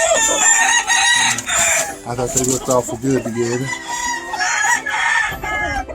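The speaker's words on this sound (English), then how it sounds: "I have an awful pretty Albany rooster, 2 little spangled hens" An Albany rooster crows once with a loud, harmonic call at a Georgia farm, and hens cluck around it. Someone talks in between the calls.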